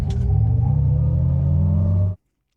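A vehicle engine, likely a truck, gives a deep, steady, loud rumble for about two seconds before cutting off sharply.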